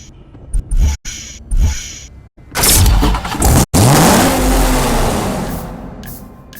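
Corvette Z06 engine from the racing game Need for Speed Hot Pursuit Remastered, heard in short separate blips at first and then in a loud, sustained rev that climbs in pitch and holds near the microphone.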